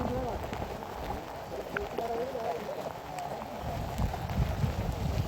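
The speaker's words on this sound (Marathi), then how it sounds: "पाऊस तर जोरातच आहे आणि पडतोच आहे" Heavy monsoon rain pours steadily on a trek up Harishchandragad fort, a dense broadband hiss that holds loud and even throughout, with faint voices mixed in underneath.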